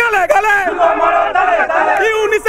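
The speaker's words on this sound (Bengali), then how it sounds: "বিক্ষোভ দেখাচ্ছেন যে ইউনিসেফ চামড়া খুলে নেব আমরা, এই স্লোগান এখানে চলছে" A protest crowd at the Bangladesh border fencing chants slogans in unison, loud, close and continuous, with rising and falling shouted voices merging into one rhythmic roar.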